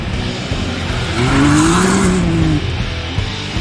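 A 2021 Can-Am Maverick X3 Turbo side-by-side roars past nearby, its engine note rising and falling as it passes, over steady outdoor noise.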